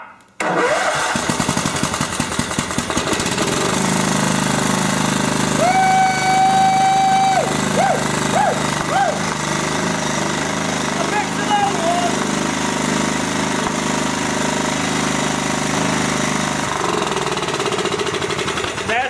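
A Kohler Command engine with a freshly rebuilt carburetor cranks, fires and catches at once, then runs loud and steady up close with a rough mechanical clatter, while a voice speaks briefly over it.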